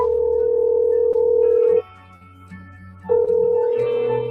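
A telephone call tone sounds close and loud as a steady electronic note, breaking off briefly partway before starting again, with no voices over it.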